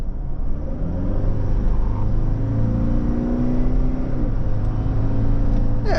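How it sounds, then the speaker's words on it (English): A 2025 Toyota Prado GX under full-throttle kickdown acceleration, its engine droning loud and steady from inside the cabin, the pitch climbing gradually through the run with no talking. "full throttle."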